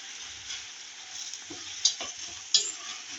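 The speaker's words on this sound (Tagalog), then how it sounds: "Ginisa yung kamatis." Tomatoes sautéing in ghee in a pan, a steady close sizzle and fry with light stirring scrapes and two sharp utensil taps against the pan.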